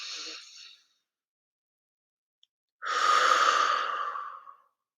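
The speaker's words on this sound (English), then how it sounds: "by breathing in and out, take a deep breath in." A person takes a deep breath: a brief exhale at the start, a pause, then one long, close, airy inhale and exhale lasting nearly two seconds.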